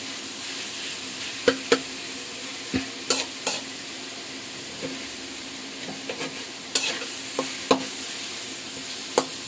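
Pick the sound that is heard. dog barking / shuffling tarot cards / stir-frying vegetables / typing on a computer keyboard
stir-frying vegetables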